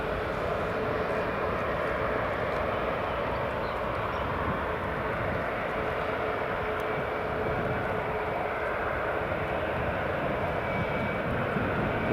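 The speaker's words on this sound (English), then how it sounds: "Ryanair down, and the Loganair from Stornoway just vacated." Ryanair and Loganair airliners at Edinburgh Airport, a steady distant jet engine rumble and whine droning evenly throughout with no voices, heard from an outdoor spotting spot.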